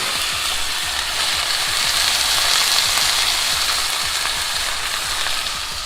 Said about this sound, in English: We're gonna pan-sear the cut by adding a little bit of olive oil on a hot pan, and then laying the cut in the middle on that